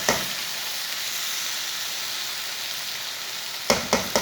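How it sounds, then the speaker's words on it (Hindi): Okra sizzling steadily over high heat in a pan, a continuous bright hiss that runs unbroken, followed near the end by a few sharp stirring scrapes. "अब 2 मिनट के लिए ऐसे ही थोड़ी सी तेज़ आंच पर इसे भून लेंगे।"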